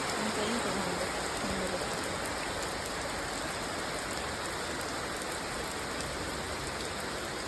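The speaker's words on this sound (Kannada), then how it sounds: "ಅದೇ ಸೇಮ್ ಪ್ಲೇಸ್ ಮಳೆ ಬಂದಾಗ ಯಾವ ಥರ ಕಾಣಿಸ್ತದೆ ನೋಡಿ ನೀವು" Rain falling at a resort in Bali, a constant broad wash of drops pattering on surfaces nearby, with a faint voice briefly heard near the start.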